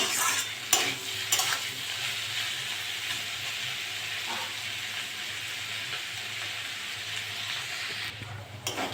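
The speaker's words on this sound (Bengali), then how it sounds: "ভাজাটা আমার হয়ে গেছে" Beetroot and potato frying in a pan give a steady, close sizzle with a bright hiss throughout, broken by a few stirring scrapes near the start, with no voices.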